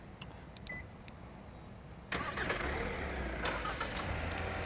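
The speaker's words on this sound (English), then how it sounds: "But you can lock the car. I can. Start the car." A 2021 Hyundai Santa Fe is started remotely with its key fob: a few faint beeps, then the engine catches with a sudden burst and settles into a low, steady idle nearby.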